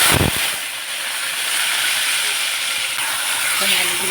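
Potatoes frying in mustard oil in a wok with cumin and bay leaf, a steady loud sizzling hiss that holds throughout, with a brief clatter at the start.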